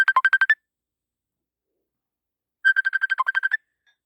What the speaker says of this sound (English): I don't know why I'm getting a video chat.